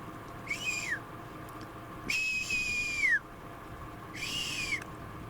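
A person whistles to imitate a hawk outdoors: three long, descending screech-like whistles, the middle one longest, spaced a second or so apart over a faint background hiss.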